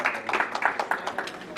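A brief burst of audience applause, many hands clapping at once, fairly close.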